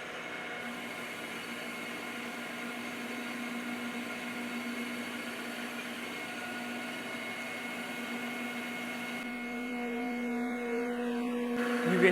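Metal lathe cutting a die, with a steady whirring hum and a faint high-pitched chatter ringing over it, growing slightly louder near the end.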